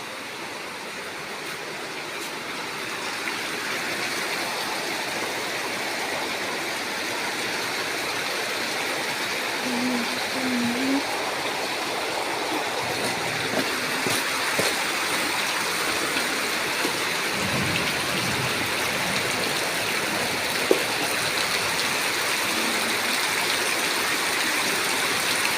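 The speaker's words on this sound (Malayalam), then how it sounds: "ഭയങ്കര മഴയാണ്, ഇടിയൊക്കെ വെക്കുന്നത്." Heavy rain pours down steadily as a dense, continuous wash of noise throughout, with no distinct thunder clap standing out.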